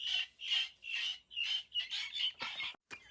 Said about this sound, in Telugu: గిని కోళ్ళు